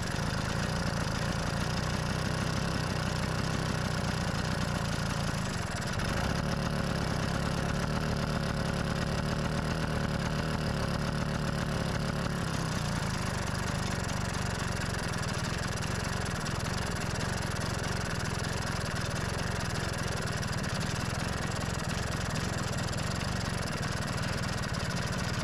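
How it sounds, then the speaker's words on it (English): A Vespa PX scooter engine with a faulty carburetor idles steadily after an idle screw adjustment, a continuous low mechanical drone with a brief change in tone partway through, running alone without voices. "Let's see if I can keep the engine running in idle when I tweak the idle screw."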